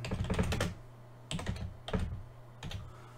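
Several short bursts of typing on a computer keyboard, a dense clatter of keys at first followed by three quick separate clusters of keystrokes, close and fairly quiet with no talking.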